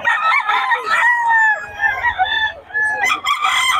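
Young gamecocks (stags) crow loudly and close at hand, several overlapping strained crows in quick succession mixed with clucking, with a voice faintly heard in the background.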